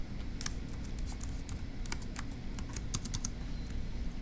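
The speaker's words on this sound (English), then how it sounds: "let's go ahead and type that up" Rapid, uneven clatter of keys on a computer keyboard, with sharp clicks in irregular bursts over a low steady background hum, close and fairly quiet.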